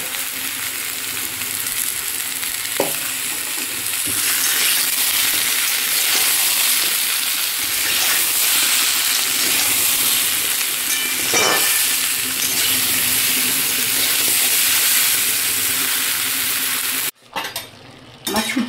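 Potatoes and chhuti beans fry in a pan with a steady, close sizzle, occasional stirring scrapes and utensil clicks throughout, then a brief break near the end.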